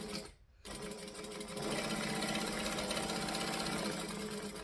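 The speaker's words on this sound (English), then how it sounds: "So I'm just stitching the long lines of this pocket and I'm making sure that the ends stopped perfectly evenly" A sewing machine stitches the long straight lines of a fabric pocket, a close, steady mechanical whir that briefly stops and then runs continuously at full speed.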